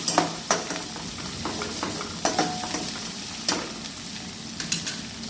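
Onions with turmeric sauté in a hot pan, a steady sizzle punctuated by repeated sharp scrapes and taps of a spoon stirring, close and moderately loud, with no voices.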